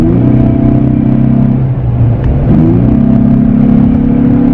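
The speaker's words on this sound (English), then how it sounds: "I think the most part you are hearing it's from the cold air intake for sure" Cold air intake roar heard from inside a car cab while driving in winter with traction control off, a steady loud engine drone with a brief dip and rise in pitch midway, no talking.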